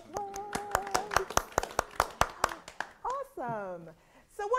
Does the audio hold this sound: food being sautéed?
no